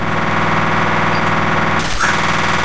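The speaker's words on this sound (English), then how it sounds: "He's just shooting at the wall." Video game gunfire aimed at a wall sounds as a fast, loud, continuous rattle of rapid shots, with a sharper impact near the end, and no voices.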